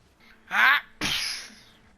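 A voice imitates a big sneeze: a breathy inhale builds up, then after a brief pause comes a loud, forceful burst that trails off, close to the microphone.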